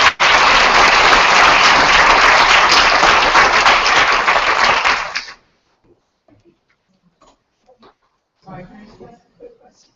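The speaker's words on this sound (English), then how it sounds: "let's give everyone a round of applause." Round of applause from a group, dense clapping for about five seconds that stops abruptly, followed by quiet with brief speech.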